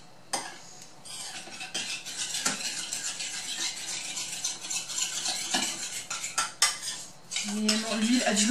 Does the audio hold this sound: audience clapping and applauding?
no